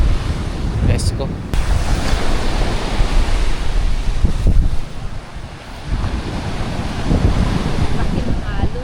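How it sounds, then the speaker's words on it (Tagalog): Big ocean waves crash and wash onto a beach at Bohol, making a loud, continuous roaring surf mixed with heavy wind buffeting the microphone, with faint voices in the background. "Laki ng alon."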